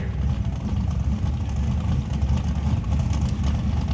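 A 1955 Chevy drag car with a twin turbo big block engine rumbles at low pitch on a drag strip, a heavy rough idle heard steadily from some distance.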